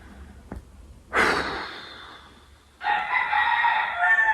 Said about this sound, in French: Ils ont commencé à chanter les coqs à 3h du mat.